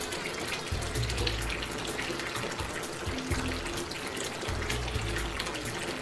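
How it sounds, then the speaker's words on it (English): Water rushing and splashing in an old-school aquarium protein skimmer as it floods, a steady loud gush like a running tap with surging, gurgling pulses throughout and no voices. "these classic old school skimmers"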